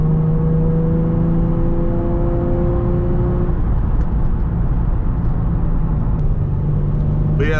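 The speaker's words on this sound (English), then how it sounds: "the rev matching on the stage 3 clutch, oh my god, that shit's beautiful" A Nissan 350Z engine with a stage 3 clutch drones steadily from inside the car, its pitch holding then dropping as revs are matched during a shift, loud and continuous with no speech.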